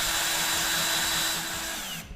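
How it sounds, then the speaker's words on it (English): A power drill whirs steadily at low speed while driving screws into a light switch being reinstalled, one continuous run that winds down and stops near the end. "You can use a drill or an impact to install these screws when you're reinstalling the switch."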